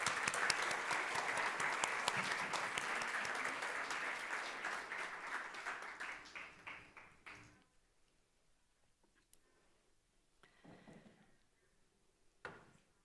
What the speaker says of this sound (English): Please give them a round of applause as they come to the stage.